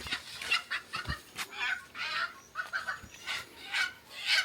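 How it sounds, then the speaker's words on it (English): Chickens clucking outdoors in a series of short, bright calls that come in irregular bursts at close to middle distance, with no talk over them. "Chicken."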